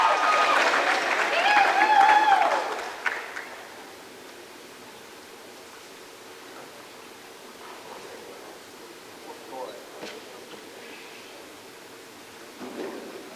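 Spectators at a Marines vs. Saints swim meet clap loudly for a dive for about three seconds. The applause then fades into a quiet, reverberant pool-hall hum with scattered faint noises.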